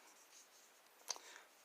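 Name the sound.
knife shaving a wooden dowel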